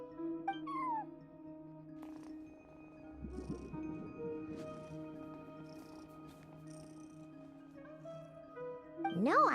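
A cat meows at a front desk in Genshin Impact, a few short, clear meows at the start and end, set against quiet ambient game music and soft background tones.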